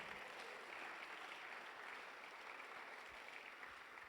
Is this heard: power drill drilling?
no